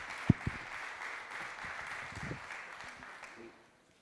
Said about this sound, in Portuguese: um aplauso para o Bernardo Teixeira, o nosso presidente da HP.